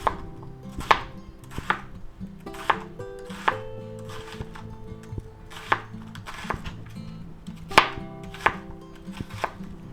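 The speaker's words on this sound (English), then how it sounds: "And we'll slice this one up." A knife slicing bok choy on a cutting board, steady rhythmic chops landing about twice per second, close and crisp, with no talking.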